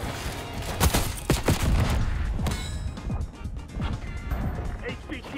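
Dense video game gunfire, rapid bursts of shots and cracking impacts, loud and close, continuous across the moment while a voice talks over the combat.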